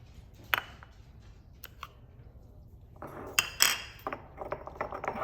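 Egg yolk stirred into paella batter in a bowl gives quiet, sporadic utensil clinks and scrapes that grow busier and more rapid in the second half.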